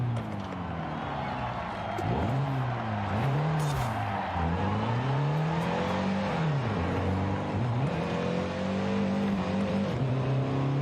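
A 1970 Datsun 510 in Forza Horizon 5 drives with a loud, steady engine drone. The pitch swoops up and down as the revs rise and fall through shifts, and the tires strain under power throughout.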